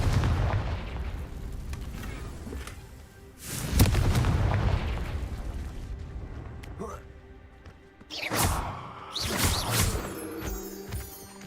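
In the Hogwarts Legacy video game, Confringo spell blasts erupt as two heavy, rumbling booms, one midway and a longer rolling one near the end, over ongoing game sound with a character's voice.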